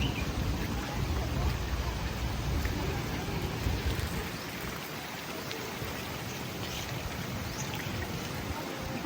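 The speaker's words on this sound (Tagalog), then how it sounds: "Oh, it's raining again." Rain falls steadily at a resort pool at Shangri-La Boracay, a soft, continuous patter and hiss that eases slightly partway through, heard at moderate distance.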